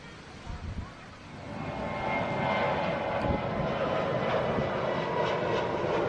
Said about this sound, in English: that's the first plane taking off from Koh Samui and probably heading back to Bangkok